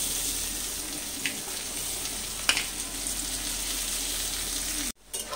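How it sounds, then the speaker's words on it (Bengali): Onions frying in oil in a wok give a steady, loud, close hissing sizzle with a couple of brief clinks of stirring, cutting off abruptly near the end. No one speaks. "এবার পেঁয়াজগুলো দিয়ে দিচ্ছি"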